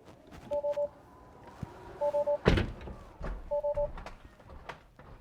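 The rear door of a 2018 Tesla Model X 100D closes automatically with a soft motor whir and a solid thunk midway, while triple warning chimes repeat at intervals around it.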